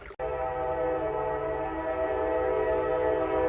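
A train passes along an Alabama river bank, its horn blaring in one loud, steady, sustained tone with a low rumble beneath, after a brief cut at the start.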